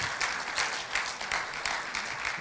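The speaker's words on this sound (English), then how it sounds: "Yeah, you can clap, sure." A church congregation on Palm Sunday claps in a brief, moderate burst of scattered handclaps in a sanctuary, with no voices over it.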